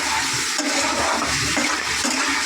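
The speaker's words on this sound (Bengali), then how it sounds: "সামান্য একটু জল দিয়ে ঢেকে দেবো" A little water is poured into a hot pan of spiced eggplant, producing a steady, close, loud rushing sizzle that continues without pause.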